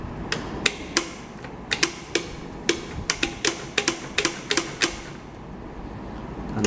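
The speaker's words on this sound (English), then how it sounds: "You can hear while I'm playing these keys" Saxophone keys operated through one-handed adaptation switches clack in a quick irregular series of sharp mechanical clicks, close and fairly soft, with no voices.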